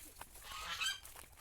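Ducks honk and call outdoors among village fields and trees, a few nasal cries rising over a faint open-air background, moderately distant and not very loud.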